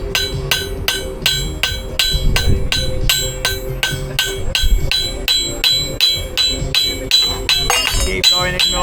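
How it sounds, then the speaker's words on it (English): A blacksmith's hammer strikes a metal hook on an anvil, half on and half off the face, at a traditional heritage-day demonstration. Loud, rapid, evenly spaced ringing blows repeat throughout, with a few voices murmuring underneath. "You want to whack about half on the anvil and half off the anvil"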